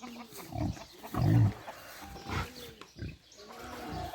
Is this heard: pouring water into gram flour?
no